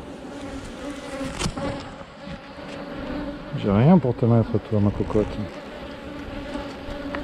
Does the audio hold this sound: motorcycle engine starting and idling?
no